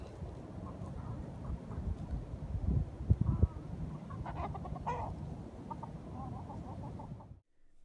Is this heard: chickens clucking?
yes